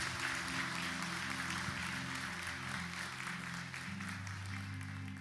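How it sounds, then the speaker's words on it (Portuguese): A church congregation applauds steadily for several seconds during a Portuguese-language evangelical service, the broadband clapping fairly loud and continuous over a sustained low organ or keyboard drone. "Você pode aplaudir o Senhor Jesus?"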